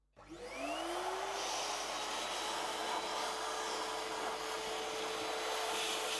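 A high-power HYB XC 188 service vacuum cleaner starts up on its lowest power setting and settles into a steady, even whine and rushing hum, running alone without any voices.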